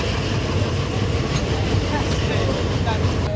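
A passenger train rumbles along in a loud, continuous low roar with steady rolling noise and no breaks, heard from on board or close by.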